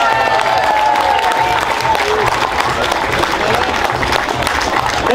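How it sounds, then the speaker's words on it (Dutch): Dense, loud crowd applause with cheering at a Dutch carnival event, steady clapping and shouts filling the space throughout, with some voices mixed into the din. "Een applaus!"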